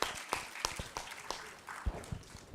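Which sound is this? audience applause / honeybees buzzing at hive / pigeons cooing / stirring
audience applause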